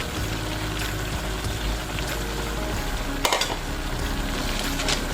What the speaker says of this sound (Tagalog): haluin lang natin hanggang ilubog natin lahat yung malunggay sa gata